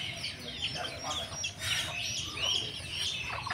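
Desi chickens offered for sale at a village poultry market cluck and chirp repeatedly in a busy, close chorus, with scattered voices of people in the background.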